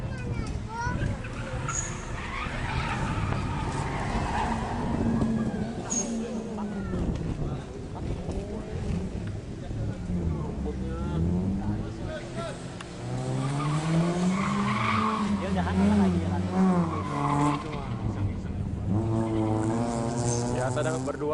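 Two cars drift in tandem at a Suzuki Swift event in Bali, tires skidding and squealing in long, wavering wails that rise and fall over a steady engine roar. A commentator talks continuously over the noise.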